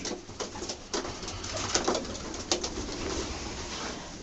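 Pigeons coo softly and repeatedly at close range, their low murmuring calls overlapping against a steady outdoor background.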